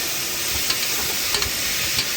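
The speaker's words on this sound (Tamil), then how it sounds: "அதை இதில் போட்டு நல்லா வதக்கணும்" Ground green masala of tomato and ginger sautéing in a pan for vegetable kurma, a constant dense sizzle and hiss close by with a few soft stirring clicks, no talking.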